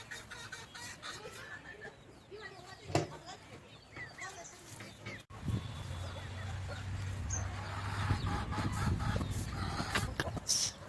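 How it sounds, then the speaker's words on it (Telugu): Large chickens cluck and call intermittently close by, scattered short bird calls under a person talking. "ఇవన్నీ పెద్ద కోళ్ళు ఉన్నాయి"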